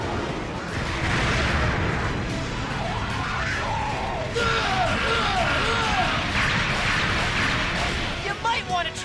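Cartoon weapons fire in a battle in a Transformers Energon jungle city, with dense continuous blasts, booms and laser-like zaps layered over music and shouting voices throughout.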